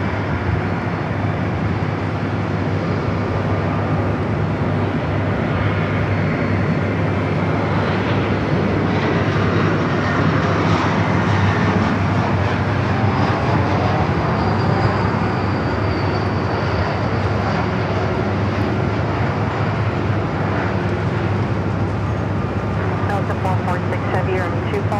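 A Delta heavy jet on runway 24 left at Los Angeles International Airport, bound for Atlanta, gives a steady, loud broadband engine roar that holds for the whole stretch, with radio talk and a voice over it.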